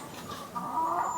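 Chickens clucking softly while pecking at black soldier fly larvae, a short run of close, low fowl calls rising slightly in loudness toward the end.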